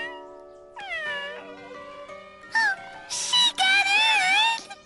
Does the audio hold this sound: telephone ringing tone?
no